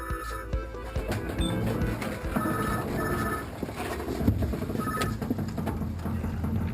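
A payphone inside a phone box rings in repeated bursts of electronic trilling, fairly loud and close, with street-like background noise between the rings.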